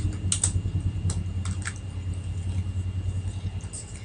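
Rapid clicking of a computer keyboard as Java code is typed, a quick burst of keystrokes followed by a few sparser taps over a faint steady background hum.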